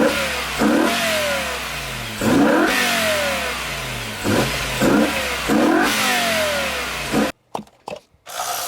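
A BMW E60 M5 warming up, its engine blipped through a series of sharp revs over a steady idle rumble, loud and close, before the sound cuts out near the end.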